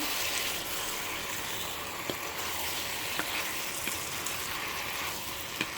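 Pakbet vegetables with okra frying and being stirred in a pan, a steady, even sizzle throughout with a few soft clicks of the utensil against the pan.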